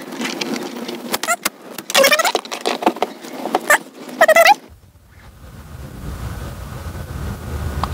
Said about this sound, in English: I see the fan starting. It's pretty quiet.